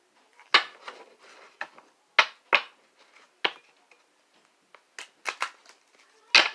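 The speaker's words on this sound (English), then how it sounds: "Wow, what a bad shuffle." Tarot cards being shuffled by hand, a series of sharp, close riffling snaps and flutters in irregular bursts with short pauses between.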